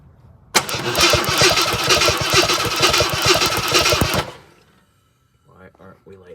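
A 1972 Pierre Cardin AMC Javelin engine cranks loudly and rhythmically on the starter for about four seconds without catching, then stops; a voice follows briefly afterward.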